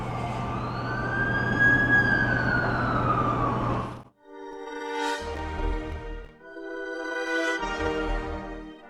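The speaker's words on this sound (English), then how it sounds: "That's the ambulance I called." An ambulance siren wails in The Amazing Spider-Man 2 video game, first a loud sweeping wail, then two pulsing horn-like bursts separated by brief pauses, close and dominant.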